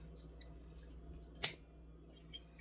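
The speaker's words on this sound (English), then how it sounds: "I'm going to bring it down to this branch and cut all of this off" A single sharp snip of pruning shears cutting a bonsai branch, close and crisp, with a few faint small clicks around it in a quiet room.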